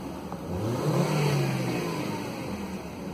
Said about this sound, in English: Let's rev it.